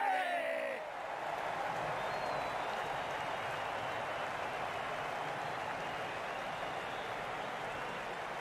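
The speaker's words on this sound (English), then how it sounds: "The crowd are loving this." Esports match crowd cheering and applauding, a broad steady wash of clapping and whoops that holds at an even level throughout, heard behind commentators talking.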